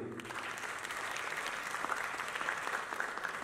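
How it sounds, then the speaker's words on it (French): A crowd claps steadily at a film festival awards ceremony at the Grand Théâtre in Dakar, a continuous wash of applause heard from some distance, fairly soft. "Je crois qu'on peut t'applaudir à nouveau."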